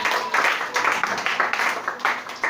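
A church congregation claps during a worship service, with rhythmic bursts of applause and cheering that swell and ease in waves, loud and close, with voices mixed in.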